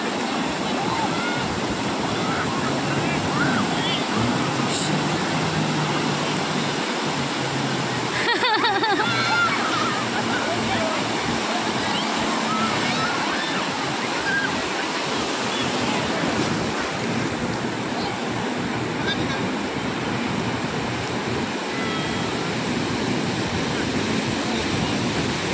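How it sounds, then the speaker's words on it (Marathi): Ocean waves break and wash continuously on the beach at Ganpatipule, a loud steady surf roar mixed with wind buffeting the microphone. "लाट बघा केवढी आहे"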